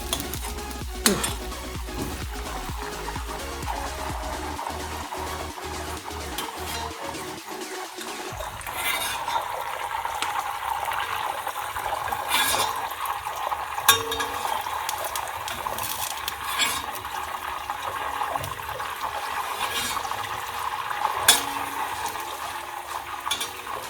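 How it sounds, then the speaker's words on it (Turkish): Butter melting in a pan for gözleme, with a soft continuous sizzle and crackle, some scraping and stirring near the start, and low clatter from utensils. "tereyağı erittikçe böyle alırım. iyice eriyecek."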